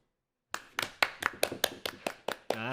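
Hands clap in a sparse, uneven run of about nine sharp, close strikes after a brief silence, with a short voiced sound at the very end.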